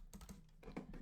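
A short run of keystrokes on a computer keyboard while entering a web address, a few faint, close clicks in a brief burst.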